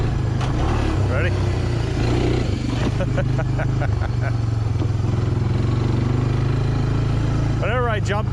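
Honda TRX300 4x4 ATV engine running loud and close throughout while being driven, a steady rough drone with brief rises in pitch, and a voice speaking over it near the end.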